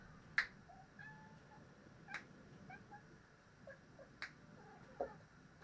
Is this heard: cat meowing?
yes